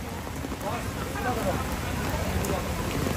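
Rain patters and hisses in a dense, even wash over the Hazratpur cattle market, with faint voices in the background.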